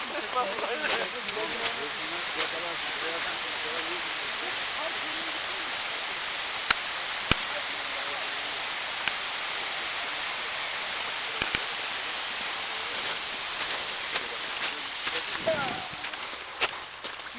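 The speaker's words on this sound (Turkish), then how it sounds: "şelale, ağlayan şelale ismiyle tanınan bir yer" Ağlayan Şelale waterfall roaring as a steady broadband rush of falling water, loud and constant throughout, with scattered sharp clicks and faint voices in the background.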